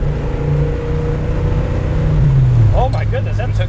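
A 1967 Chevy II Nova accelerates hard from a stop sign through second gear, its engine drone rising and pitching up loudly from inside the car, with voices exclaiming near the end.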